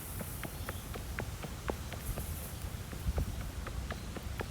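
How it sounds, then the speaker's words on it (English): Footsteps of a person walking away, a steady run of soft, faint steps with an even rhythm over a quiet background hiss. "As we hear his footsteps trail off or begin to quieten"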